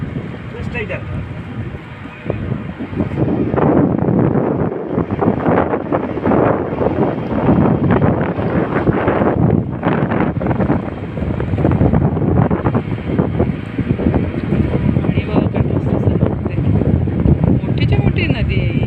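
A ferry crosses the wide Sharavati river backwaters in coastal Karnataka: a steady, loud rumble of engine and water churned by heavy wind buffeting the microphone, with voices talking over it.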